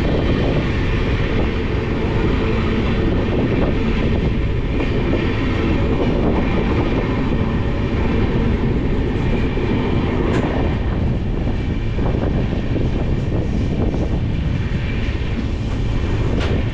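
Loud, continuous roar of the 12713 Satavahana SuperFast Express running on the tracks, with rhythmic clickety-clack of wheels over rail joints heard from on board throughout.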